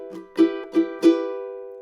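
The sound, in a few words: guitar strumming pattern played with slowed ties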